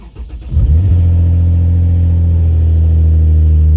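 A Lexus IS350 engine starts with a brief crank, then settles into a loud, close, steady idle with a deep rumble that holds to the end.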